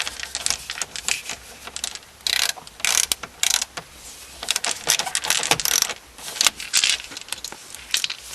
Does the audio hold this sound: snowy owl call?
no